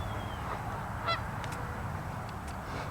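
Geese on ice alongside mallards, with one short, clear honk rising over a steady low outdoor rumble and a few fainter calls around it.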